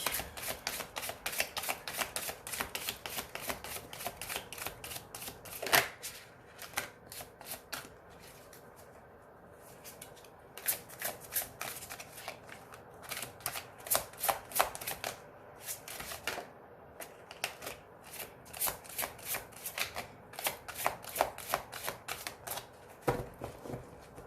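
Tarot cards being shuffled and cut for a horoscope reading, a long run of crisp riffling bursts and soft card slaps at close range, with brief pauses between passes and no talking.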